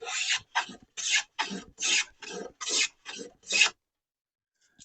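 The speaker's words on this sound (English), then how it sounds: "It's making nice shavings." A Stanley No. 2 hand plane scrapes across wood in nine rhythmic, rasping strokes, each a short breathy swish, close by, followed by quiet.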